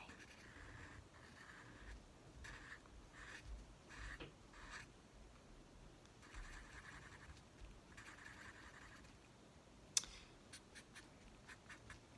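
A pen scratches faintly across paper while drawing cartoon eyes, with short rhythmic strokes and small pauses, quiet and close, plus one sharp tap near the end.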